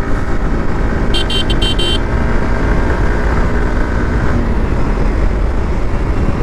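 A scooter running at speed on a road, with steady loud engine roar and wind rumble, and a short burst of horn honks early on; no talking.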